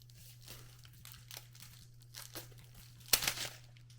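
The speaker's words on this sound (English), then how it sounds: "I'm going to use my kitchen scissors specifically for food to kind of cut this" Food-only kitchen scissors cutting through dried fruit leather, giving several scattered crinkling snips and cracks over a low steady hum, with a sharp louder crack near the end and no talking.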